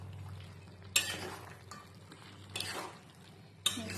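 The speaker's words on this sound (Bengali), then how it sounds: "মিক্স করে চিকেনগুলো যাতে একটু সেদ্ধ হয়ে যায় ভালোভাবে মিক্স করে দিলাম" Bottle gourd and fried chicken stirred together in a pan, giving a soft, steady sizzle broken by three sharp scrapes of a utensil against the pan, spaced out and moderately close.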